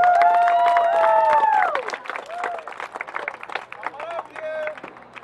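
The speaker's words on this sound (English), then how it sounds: "give a big round of applause for KCHS band senior member" A crowd at a high school band's Senior Night claps and cheers for a senior band member, with loud whoops and yells ringing over dense applause that eases off after a couple of seconds and carries on with scattered shouts.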